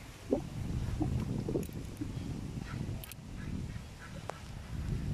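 A small flock of geese visiting a home in Africa, heard as a few scattered, fairly distant honks over a steady background rumble.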